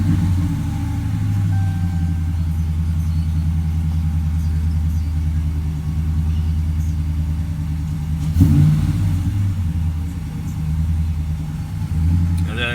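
A car engine idles steadily throughout with a low, continuous rumble, swelling briefly midway as if revved, close and fairly loud with no speech.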